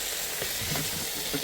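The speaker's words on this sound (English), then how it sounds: "I want to fry the meat, so you know, the tomatoes, these spices will infuse with the meat" Lamb feet meat frying with tomatoes and spices in a pan, a steady close sizzle with occasional soft stirring scrapes, no talking.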